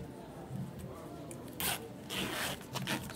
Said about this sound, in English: So I'm going to fix my zip cloth and zip head.